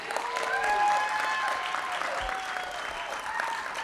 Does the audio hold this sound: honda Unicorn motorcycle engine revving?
no